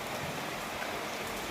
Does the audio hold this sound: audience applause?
no